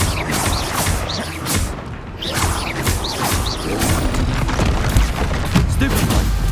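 Confringo explosive spell blasts from Hogwarts Legacy, repeated booming impacts and crashes over steady combat noise, with a voice speaking intermittently beneath the action.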